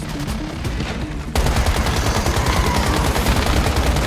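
Rapid automatic gunfire in the video game Once Human, a dense rattling stream of shots that starts quieter and jumps louder partway through, continuous and close.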